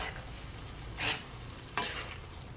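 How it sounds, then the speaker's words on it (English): Dark soy sauce poured into a hot pan of garlic shrimp noodles, a steady low frying hiss with two short louder sizzling bursts as the liquid hits. "I'm gonna add some more of my dark soy sauce just to give it some more color"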